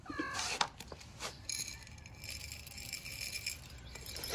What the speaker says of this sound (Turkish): Diğer kedicikleri de çağıralım, onlar da yesin, olur mu?